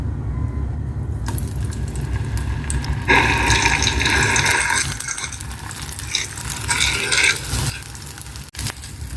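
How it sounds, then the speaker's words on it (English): Kebabs sizzle and crackle in hot oil, a steady hiss that swells with bursts of louder spattering and a few scraping stirs, no talking. "Fry the kebab"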